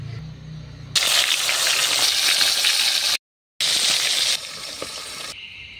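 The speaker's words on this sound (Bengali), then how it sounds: "মাছটা আমি এখন ভেজে নেব।" Sona kanta fish fries in oil on a clay stove with a loud, continuous crackling sizzle, broken by one short silent gap before it carries on.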